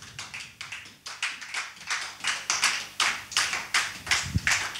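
A church congregation applauds to acclaim Jesus with steady, rhythmic clapping in unison. The beats are evenly spaced and moderately loud, with no voices over them.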